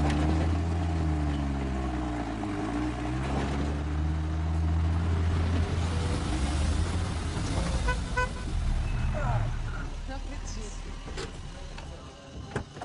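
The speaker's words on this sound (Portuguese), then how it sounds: "Tem um carro subindo aí, sim." A car climbs a road, its engine rising and labouring under voices, with a horn-like tonal toot and shifting pitch as it approaches, fairly close and loud before easing off.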